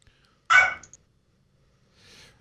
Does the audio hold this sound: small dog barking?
yes